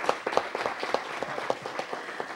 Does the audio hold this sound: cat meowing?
no